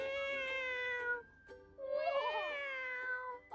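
A child imitates a cat, giving two drawn-out, high meows with a short pause between them, close and clear, with no other voices.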